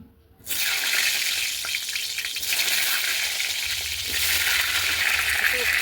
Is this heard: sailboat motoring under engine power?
no